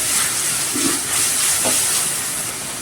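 A large tomato with ginger and garlic sautés in a pan, producing a loud, even hiss that runs unbroken through the short clip.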